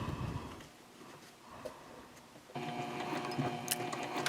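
A sewing machine stitches a messenger bag gusset, a quiet whirring run that pauses and then starts again more loudly with a steady mechanical hum.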